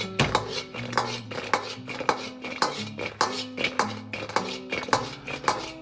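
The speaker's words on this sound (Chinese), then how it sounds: "然后关火，倒入炸好的肉，翻炒均匀" Fried pork tossed in sugar syrup in a wok, with steady repeated scraping clanks of a metal spatula against the pan in a busy rhythm, close and without speech.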